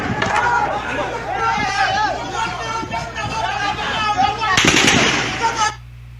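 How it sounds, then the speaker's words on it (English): Gunfire rings out in recorded footage of a shooting in Enugu, loud bursts and cracks over a crowd's shouting and babble, with a dense cluster of shots near the end before it cuts off. "As you can see, they are shooting our people."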